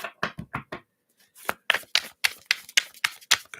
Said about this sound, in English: To shuffle this up again.